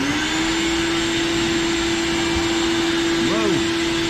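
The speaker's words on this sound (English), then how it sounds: "If you plug it into vacuum and not blowing, it works much better." A shop vacuum runs steadily and loudly throughout, a constant whine with a strong tonal hum, close by and unbroken, with a faint voice briefly under it.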